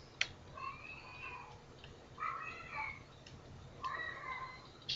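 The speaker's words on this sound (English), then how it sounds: "If you can hear that, that's a cat." Cat meowing inside the Minecraft video game, a few loud, repeated meows spaced a second or two apart over a quiet background with faint ticking.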